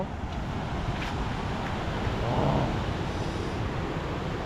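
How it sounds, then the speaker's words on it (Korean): Ocean waves breaking where surfers ride, heard as a steady, loud wash of surf blended with rumbling wind noise on the microphone, continuous and unbroken for the whole stretch. "또 파도 진짜 좋다"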